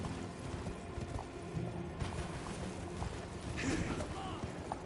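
Horse hooves clip-clop at a steady pace in Elden Ring, mixed with mechanical creaks and ambient game noise under continuous background sound.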